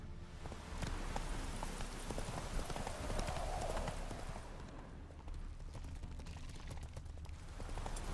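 Roach the horse trotting in The Witcher 3, a steady quick clip-clop of hooves running under a dense game soundscape throughout.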